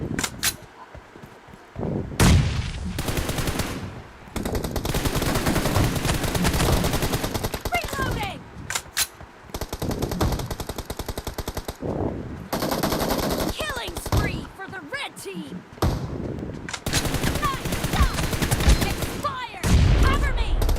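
Rapid bursts of automatic gunfire in the BGMI battle game crackle loudly in repeated volleys separated by short pauses, with occasional voices in between.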